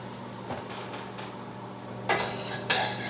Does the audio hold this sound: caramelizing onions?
yes